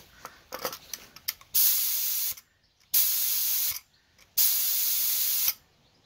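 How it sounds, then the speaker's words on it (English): A paint spray gun blasts thinners through to clean it out, three loud, even hissing bursts of about a second each separated by short pauses, preceded by faint clicks and handling. "I'm just going to put a little bit of thinners in the gun and just spray it through"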